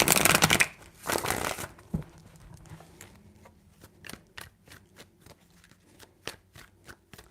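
Tarot cards shuffled by hand: two loud riffling bursts at the start, then a run of crisp, evenly spaced taps and flicks as the deck is handled close up, with no talk.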